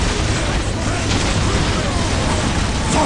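An explosion in the strategy game Warhammer 40K Dawn of War Definitive Edition: a loud, sustained roaring blast with rumbling, crackling debris noise that fills the whole moment without a break.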